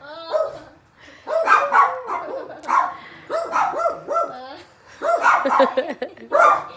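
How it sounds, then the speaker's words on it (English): Several dogs bark and yip in repeated bursts close by, mixed with someone talking and hushing them indoors during a Christmas gift unboxing. "Well, that's our dogs."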